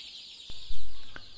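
Ten-day-old KUB-2 chicks chirp and peep in a continuous high chorus, with a couple of soft thumps, close by.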